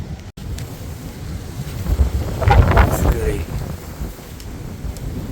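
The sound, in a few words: strong storm wind roaring with powerful gusts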